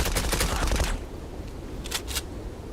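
Rapid automatic gunfire from the online shooter Zula bursts loud and dense for about a second, then two quick shots follow after a pause, with no voices.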